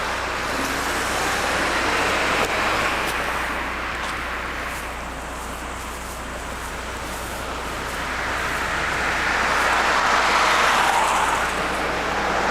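Steady road traffic near Ledgewood Circle, New Jersey, with cars swelling past and fading in a continuous roar, no voices over it.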